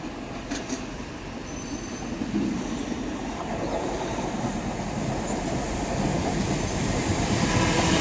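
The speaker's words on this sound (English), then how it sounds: "we got a train coming in now going to Worcester, Foregate Street. It's one of those turbo style trains." A Class 166 turbo diesel train, unit 166-205, arrives at Bristol Parkway station on a service to Worcester Foregate Street. It rumbles steadily and grows louder, with wheel squeal and clacking rails.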